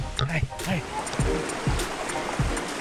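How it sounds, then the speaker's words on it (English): A stream and waterfall rush near San Rafael, Paquera, Costa Rica, a steady, close wash of flowing water under scattered voices calling out and chatting. "make our way down to the waterfall"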